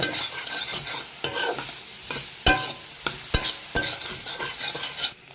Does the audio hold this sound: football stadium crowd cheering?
no